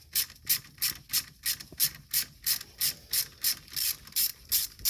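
A ratchet fitted with a 30 Torx bit loosens a battery terminal on a BMW N62 engine, giving a steady run of about fifteen sharp, close clicking bursts in an even rhythm.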